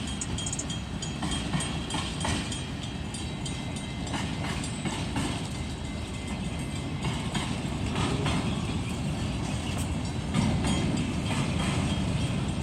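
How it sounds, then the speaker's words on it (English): A long train rolls past nearby in California, a steady loud rumble of wheels and railcars with rhythmic clicking and clacking that continues throughout. "It's kind of like a long train."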